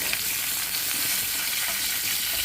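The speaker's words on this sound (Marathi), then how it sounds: "आता बघा आपण फोडणी करतो" Spices crackle in hot oil as a tempering for a raw tomato chutney, producing a continuous, near, even sizzle with no voices.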